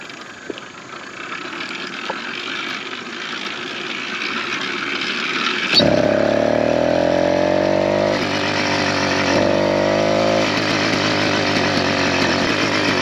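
Two-stroke motorized bike kit engine catching when the clutch is released while pedaling. Road and wind noise come first, then a loud, buzzy, chainsaw-like drone starts abruptly and keeps running steadily as the pitch rises.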